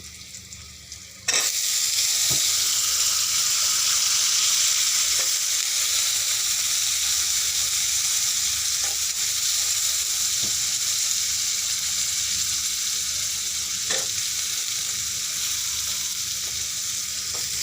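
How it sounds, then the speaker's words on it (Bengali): Potatoes hit hot oil in a pan, and a loud, steady frying sizzle bursts on and continues close up, with occasional soft clicks of utensils and no voices. "এখন আমি আলুটা এখানে ছেড়ে দেব এখন আমি আলুটা ছেড়ে দিচ্ছি দেখুন"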